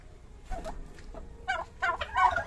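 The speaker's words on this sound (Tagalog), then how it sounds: "Yan ang malalaki na pabo." Several turkeys gobble in quick, rising bursts close by, the calls growing louder and more overlapping toward the end.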